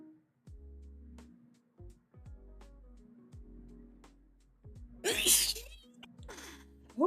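A loud, aggressive human sneeze bursts out near the end, with a sharp noisy blast and a brief tail, after a stretch of quiet clicks and low hum.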